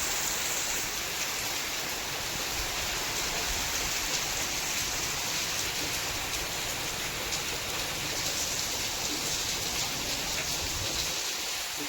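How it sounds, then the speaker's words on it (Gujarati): Heavy monsoon rain pours steadily outdoors over village farm fields, a dense, loud, unbroken hiss of water lasting throughout with no pauses and no voices. "તમે જોઈ શકો છો કેવો મસ્ત મસ્ત વરસાદ આવી રહ્યો છે"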